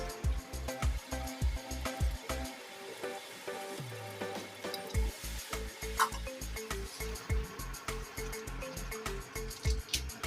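Paneer pieces sizzle in a hot pan for chilli paneer, a steady crackling hiss under a rhythmic, repeating background thump, moderately quiet throughout.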